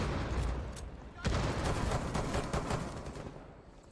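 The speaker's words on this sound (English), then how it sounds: "Because you're using a pistol." Pistol gunfire rattles in the Rainbow Six Siege video game, a burst of rapid close shots with a sharp onset after a brief quieter stretch, continuing as a dense volley; players' voices may sit faintly underneath.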